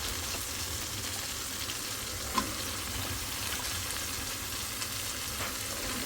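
Flat beans and eggplant fry in a pan with a soft, continuous sizzle at low volume, and a single small clink rises briefly above the hiss.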